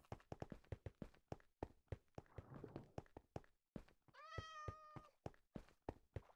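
A cat meows repeatedly in Minecraft, several rising and falling cries over a steady run of footstep-like thuds, with a short burst of rustling noise midway and no speech.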